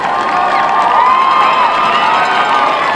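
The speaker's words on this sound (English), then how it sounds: "Saints fans, let's make some noise" A loud crowd of fans cheers and shouts continuously at a school varsity game, with high-pitched voices and whoops blending into a steady roar.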